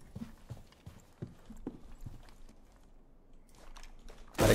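Horse hooves clip-clop in a steady, fairly quick rhythm during a Rainbow Six Siege team deathmatch, a series of distinct thuds ending in a sudden loud burst.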